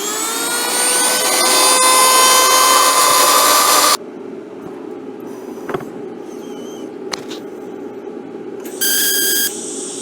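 Loud, steady high-pitched grinding of a tungsten welding electrode for about four seconds, then a quiet stretch with faint clicks and a brief whine returning near the end.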